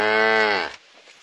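A single loud, drawn-out cow moo in a mobile rhythm game trailer, rich and harmonic for most of a second before breaking off into quiet rustling.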